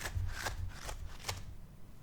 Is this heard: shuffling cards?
yes